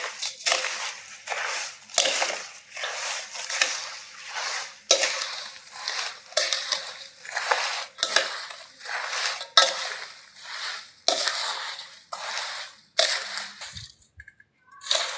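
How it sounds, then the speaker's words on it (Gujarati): Sour mango pickle is mixed with spices by hand, a rhythmic, close scraping and crunching repeating about every second for fifteen seconds. The gritty strokes are steady and fairly loud, with no voices. "હવે બધું મિક્સ કરી લેશું."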